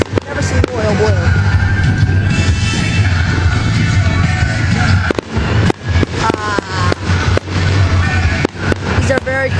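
Fireworks at a Michigan balloon festival boom and crackle in a dense barrage, with sharp close explosions and sizzling bursts piling up while spectators shout and talk excitedly throughout.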